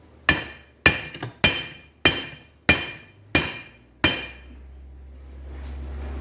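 Hammer striking a piece of brass to tap a front axle seal down on a Kubota B3000 tractor: seven sharp metallic knocks at an even, deliberate pace, close and loud, followed by a low rumble.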